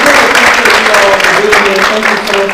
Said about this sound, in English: So can we get a round of applause for